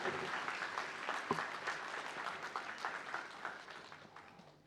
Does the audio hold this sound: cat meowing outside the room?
no